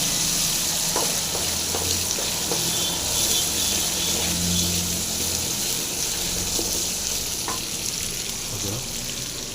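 Salt, cloves, cumin, masala, curry leaves, mint and coriander fry in hot oil for a skinless chicken gravy, giving a steady close sizzle with faint stirring clinks and a few splashes throughout.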